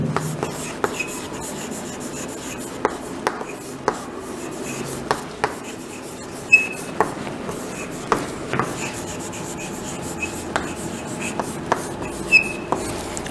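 Chalk or marker writes on a board during an English lesson, a steady rubbing scratch punctuated by a dozen or so sharp taps as strokes begin, close and clear with no talking.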